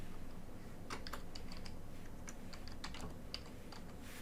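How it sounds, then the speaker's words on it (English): Fingers typing on a computer keyboard nearby, a quick irregular patter of light key clicks over a steady background hum, with no speech. "I'm going to type this in"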